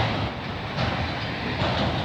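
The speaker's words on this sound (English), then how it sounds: "There goes 601 GO train right beside the 554 locals." GO train 601 thunders by alongside local trains in Burlington, Ontario, a continuous close roar of wheels and cars on the rails with faint rhythmic clicks and no voices.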